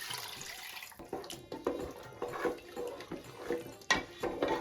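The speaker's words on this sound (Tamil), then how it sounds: "அந்த தண்ணியை நான் இதில் ஊற்றுறேன்." Tamarind water being poured into a pot of sambar, a short trickling and splashing of liquid with uneven gurgles and small pulses, close and fairly quiet.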